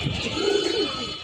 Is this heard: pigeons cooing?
yes